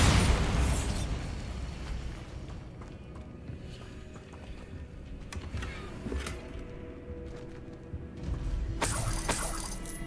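Spell impacts and explosive bursts in the Hogwarts Legacy video game: a loud blast at the start, scattered crackles and pops through the middle, and another heavy burst near the end, with no talking.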